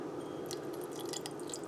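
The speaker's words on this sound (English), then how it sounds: "we're going to take the hot milk and pour it in here" Hot milk is poured over a hot cocoa bomb in a mug, giving soft, scattered drips and wet splashes, with a sharper splash at the very end.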